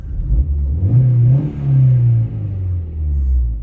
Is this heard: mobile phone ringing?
no